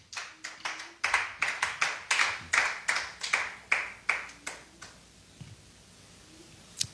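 A small group in a church service claps in a brisk rhythmic beat, about a dozen sharp claps that slow and fade out, with no talk over them.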